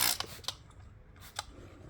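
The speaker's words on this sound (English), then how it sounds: "We're going to spray this on there and see how quick and easy it takes it off." Detailing fabric cleaner from a spray bottle gives a few short, quiet hissing spritzes, spaced apart, with faint mechanical clicks and no talking.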